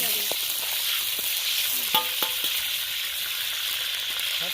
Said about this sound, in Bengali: মাছ ভাজা দিয়ে মজা এবারে মাছ ভেঙে যাবে।